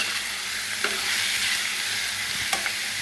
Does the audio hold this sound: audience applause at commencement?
no